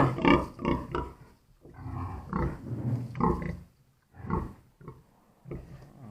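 A sow of about 160-170 kg grunts and snorts in a string of low, rough bursts, close by, with short pauses between them.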